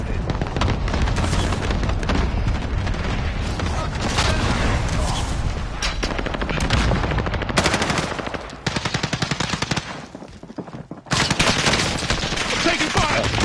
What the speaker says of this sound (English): I'm taking fire! Oh man, this dude's shooting me from behind.